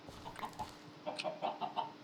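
Chickens in the Minecraft video game cluck in a series of short, soft, repeated clucks, a few at first and then a steadier run, with no talk over them.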